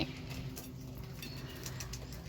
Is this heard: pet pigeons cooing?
yes